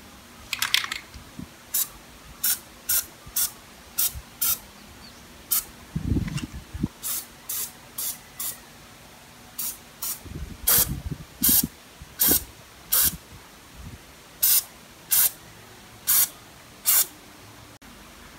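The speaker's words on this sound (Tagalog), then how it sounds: "Spray 20 centimeters away from the target for a more and smooth spray" Short bursts of aerosol waterproofing seal spray hiss repeatedly at a steady pace, each lasting about half a second, with occasional low clunks between them.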